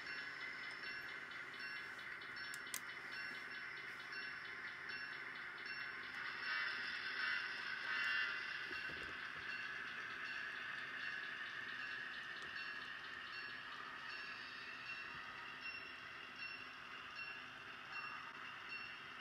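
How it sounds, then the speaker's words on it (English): An HO scale model locomotive brakes and coasts on a layout, giving a faint steady mechanical hum with a sustained whine and light rail clicks. "I really enjoy being able to brake the locomotive to a stop when I need to, and let it coast when I don't need to."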